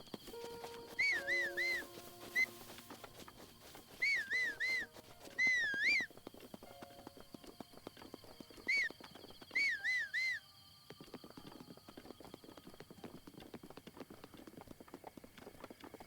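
In Breath of the Wild, short bursts of melodic whistling repeat in several groups over a continuous patter of galloping horse hooves, which keeps on alone after the last whistle.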